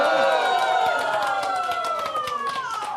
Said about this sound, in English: Did you hear that applause for the lowest point value you could get?